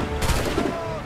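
Shooting in Assassin's Creed 4 comes as a short, loud, dense burst of gunfire blasts packed close together, with a voice talking underneath.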